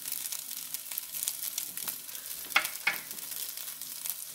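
A burrito bowl filling of meat with coriander, pepper, salt and taco seasoning sautés quietly in a pan, a soft steady sizzle broken by a couple of sharp stirring scrapes and clicks.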